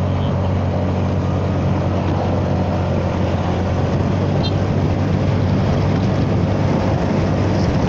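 A Honda Forza 300 scooter fitted with six 23 g variator rollers rides along at low revs, its engine a steady, low drone under constant wind and road rush.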